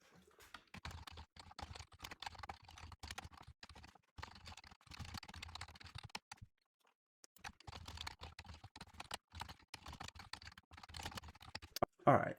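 Fingers typing code on a computer keyboard make quick bursts of light clicking keystrokes, broken by a short pause midway and picking up again toward the end.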